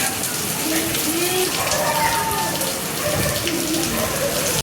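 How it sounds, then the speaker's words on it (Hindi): Sudden heavy rain pouring down in Karachi, a dense, steady hiss of water that continues without a break at close range, with faint voices underneath. "अचानक हो गई है ये तेज बारिश।"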